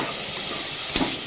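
Tomatoes sauté in plenty of oil, a steady low sizzle with one sharp spatula clink and brief stir near the end.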